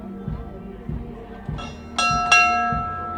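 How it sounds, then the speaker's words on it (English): A bell rings out a couple of bright strokes that linger and hum at the Oklahoma City Memorial Marathon, over soft background noise with periodic low thumps. "going up there and ringing the bell"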